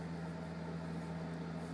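Continuous low mechanical humming from a heater runs steadily throughout, fairly quiet and unchanging, with no voices.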